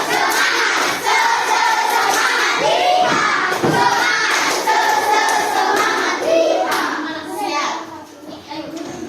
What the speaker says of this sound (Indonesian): Tepuk semangat cowboy dulu ya